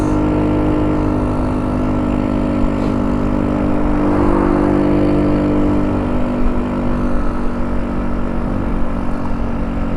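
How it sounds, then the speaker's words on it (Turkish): A car passing on the road beside a motorcycle rider at evening, a steady low engine drone with a broad rumble that swells slightly mid-way and holds, with no talk over it. "Şu arabanın geçmesini bekleyeceğim"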